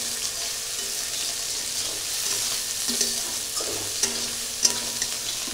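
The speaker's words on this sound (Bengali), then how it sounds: "অল্প তেলে ডিম রসা।" Eggs fry in a little oil for an egg curry, a steady close hiss of sizzling with a few small spatula taps near the end, no talking.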